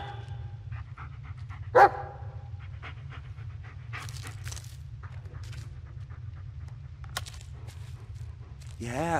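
A dog pants steadily and close by in the video game Blair Witch on Xbox One, a low rhythmic breathing throughout, with occasional footstep and game sounds and a brief bark or call.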